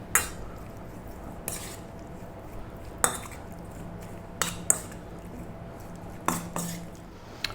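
Cubed beef is mixed with salt, pepper, cumin, coriander, chili powder and oil in a bowl, with sharp utensil clinks against the dish at irregular intervals over a quiet, steady background.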